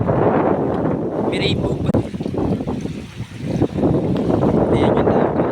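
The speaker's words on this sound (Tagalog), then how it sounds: "Ang hangin ng bako ngayon, grabe." Strong wind buffets the microphone in steady, roaring gusts by the sea at low tide in Pagbilao, Quezon, with a voice speaking briefly over it.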